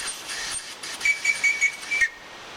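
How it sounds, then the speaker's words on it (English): A small survival kit whistle gives a series of short, breathy chirping blasts, five or six quick pulses over a hissy airy background, close and fairly loud with no talking. "all I'd have to do is just blow that whistle at him one time"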